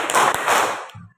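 A classroom group claps in unison once or twice in a short burst, close and loud, ending abruptly with a brief low murmur.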